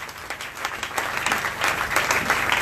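A church congregation applauds and cheers in praise, a dense, steady wash of clapping from many hands that swells toward the end, with little talk over it.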